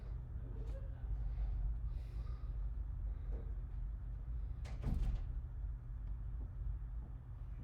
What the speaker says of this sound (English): you can pull that door shut so we don't have to listen to them